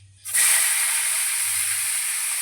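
Chopped ash gourd hits hot oil tempered with whole cumin, bursting into a loud, sudden hiss that keeps sizzling steadily and evenly at close range, with no voices over it.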